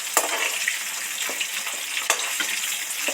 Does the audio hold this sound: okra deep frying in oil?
yes